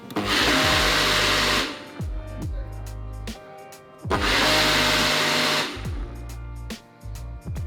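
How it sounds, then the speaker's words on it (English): A blender blitzes hot beef cheek taco sauce in two loud whirring bursts, each winding down into clattering and knocking before starting again. "we've finally got it all in the blender with a little bit of a mess. So we're going to blitz it up now."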